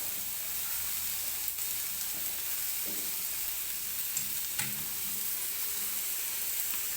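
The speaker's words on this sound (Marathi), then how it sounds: "लालसर होईपर्यंत हा कांदा मी तेलामध्ये भाजून घेते." Chopped onion fries in hot oil, a steady close sizzle and hiss with a few faint stirring taps, no one talking.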